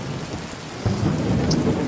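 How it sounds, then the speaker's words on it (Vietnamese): Thunder rumbles over steady rain and wind at a riverside on a cold rainy day, a loud low roll swelling partway through under the constant hiss of rainfall. "Mưa gió"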